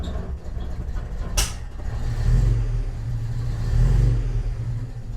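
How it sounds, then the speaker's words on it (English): A Datsun 140J engine idles low and rough on its first start in about 20 years, with a steady, deep rumble that swells slightly, after one sharp click early on. "It's idling very low."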